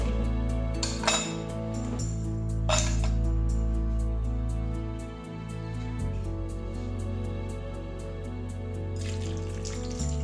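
A bottle gets scrubbed with a brush under running water at a kitchen sink, with a steady tap flow, scattered clinks of glass and brush scraping close by, and no voices.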